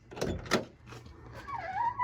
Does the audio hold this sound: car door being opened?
yes